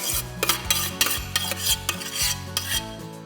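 Grated pumpkin is scraped out of a metal box grater for fritters: several short, close scrapes and metallic clinks over a steady low background hum.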